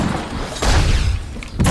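Flashbang blasts in the video game The Suffering: two loud booming bursts with a short rumbling tail, close and sharp, one after a brief pause, no talk.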